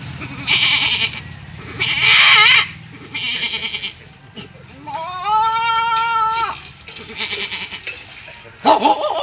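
A man imitates a goat with his voice in a rural Bihar setting, giving several drawn-out, wavering bleats in a row that sound loud and close, with brief speech and background noise between them.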